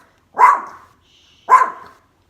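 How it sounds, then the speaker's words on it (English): A small house dog barks twice, loud and close, with a short pause between the two sharp barks and no talking around them. "She's our little guard dog."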